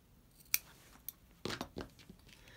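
Scissors snipping through material to cut out the center part of a hair bow, a few crisp separate snips with short pauses, close and fairly quiet with no voices.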